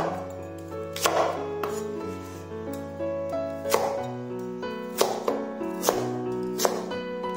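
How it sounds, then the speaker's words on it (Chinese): A knife dices crisp lotus root on a cutting board in a handful of distinct chops spaced about a second apart, heard over soft background music. "清洗干净后把莲藕改刀切丁"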